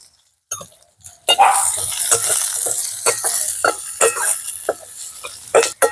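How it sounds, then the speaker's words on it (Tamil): Onion, green chili, fennel seeds and curry leaves frying in a pan in an outdoor village kitchen, sudden loud sizzle after a quiet start, punctuated by repeated sharp stirring scrapes and clinks. "வெங்காயம் வந்து நல்லா பொரியணும்"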